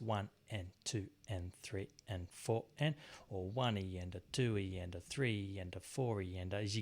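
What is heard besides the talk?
No everyday noise stands out behind the speech.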